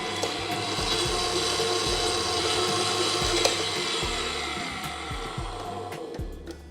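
An electric mixer beats butter and icing sugar for icing in a steady, loud whirring drone with rattling, grinding texture, running continuously up close with no talking.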